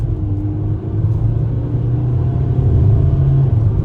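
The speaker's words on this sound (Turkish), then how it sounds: "Dip gaz yaptım. 4200'de vites attı." A 2024 Opel Combo Cargo Ultimate with a 1.5-litre 130 HP engine pulls away at full throttle, a loud low rumbling drone heard from inside the cab that builds steadily with a brief dip early on.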